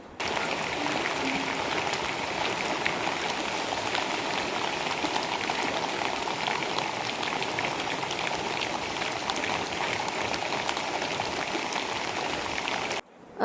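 Steady rain falls continuously, a soft even patter on surfaces with no voices.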